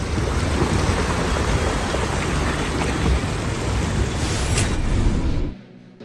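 Heavy late-season monsoon rain pours down in Khed, Pune, as a dense, loud, unbroken roar of falling water that cuts off abruptly near the end.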